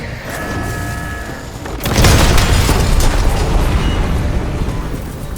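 Mortar strikes in Call of Duty Black Ops 6 land as a loud, heavy boom that swells suddenly and rolls on in a dense, rumbling roar of debris after a quieter lead-in.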